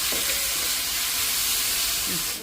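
Tomatoes sauté in a hot pan with a constant, loud, close hissing sizzle and a few faint clinks near the end.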